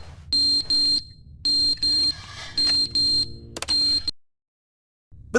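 Fire alarm in The Stanley Parable, loud repeated electronic blasts in pairs, four cycles in quick succession, then cutting off into silence.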